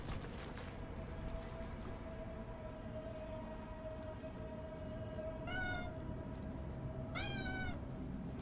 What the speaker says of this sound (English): Being attacked by cats.